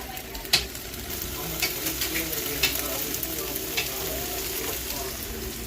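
Shrimp and chicken stir fry sizzling loudly in a hot pan, a dense steady crackle broken by a few sharp pops and stirring scrapes.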